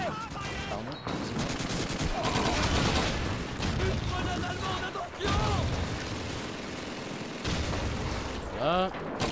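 Dense gunfire and explosions from the WWII shooter Call of Duty 2, with bursts and booms overlapping in a busy, loud battle mix, and voices faintly heard underneath.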